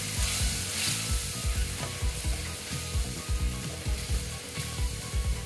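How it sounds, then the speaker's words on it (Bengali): Poppy seed paste frying in a pan for dal posto, a continuous close sizzle with a rhythmic series of scraping, knocking stirs from a spatula against the pan. "দেখো পোস্তর সঙ্গে একটু এটা আমি কষিয়ে নিচ্ছি"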